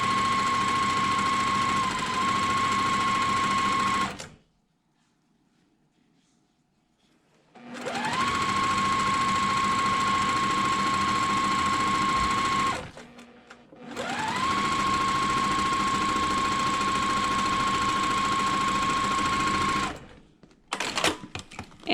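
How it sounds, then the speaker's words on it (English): A sewing machine stitching quilt strips together for a pieced border runs in three long, steady whirring bursts, loud and close, separated by pauses of near silence, with a short restart at the very end. "I'm just going to stop stitching where my shortest strip ends."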